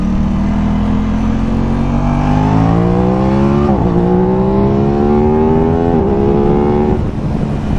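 Aprilia RS660 motorcycle engine under load while riding, a loud continuous rising drone that climbs through the revs, dips briefly at each gear change and climbs again, with steady wind rush, no talking.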